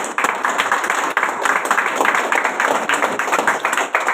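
An audience at a Vestige business meeting in Kamothe gives loud, energetic applause: a close, crisp flurry of many overlapping claps that keeps up steadily for about four seconds, alone without talk.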